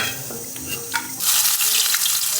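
Dried chillies and garlic cloves frying in oil for a potato mash, a quieter hiss that swells into a loud, bright, continuous sizzle close by.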